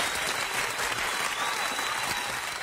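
A studio audience breaks into steady applause, a dense, even patter of many hands clapping that carries on throughout without a break.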